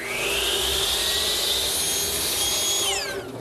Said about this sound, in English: I've set up the rip fence and the saw blade to make a rabbet.